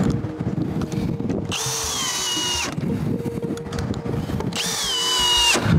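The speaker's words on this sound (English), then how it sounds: "So I screw this with a ply slightly angled" A power drill drives screws through angled plywood into formwork timber for a concrete wall corner, in two loud whirring bursts of about a second each with a pause between them.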